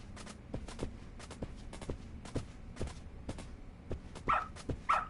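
A dog in the video game Lost Judgment snapping at things, with short sharp bursts near the end following a series of soft, rhythmic footstep-like thuds, fairly quiet and close.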